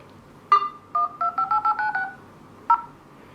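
A OnePlus One phone's dialer keypad plays a quick run of short, clear tone beeps, about eight in a burst and then one more after a pause, with nothing else around them.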